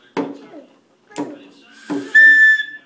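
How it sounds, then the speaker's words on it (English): Three sharp knocks, evenly spaced, then a shrill, steady toy whistle blast sounds up close for about half a second. "It's a whistle."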